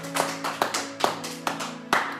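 A church congregation claps during worship, giving five or six sharp, rhythmic bursts of applause close by, with no voices between the claps.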